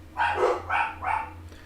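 Indoor dogs let out three quick barks in a row, close and clear over a low background hum.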